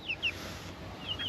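A backyard chicken gives a few short, high clucks, two close together at the start and more near the end. The calls are fairly close against a quiet outdoor background.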